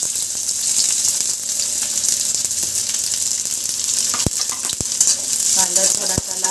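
Onion frying in oil in a kadhai, a loud, steady sizzle up close with a few sharp utensil clicks near the end.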